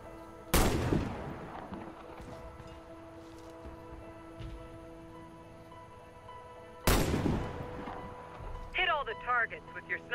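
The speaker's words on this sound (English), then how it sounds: "Hit all the targets with your Sniper rifle" Two sharp, loud sniper rifle shots at targets in Warface on Nintendo Switch crack out several seconds apart, each followed by a ringing tail, with a voice speaking over the background between them.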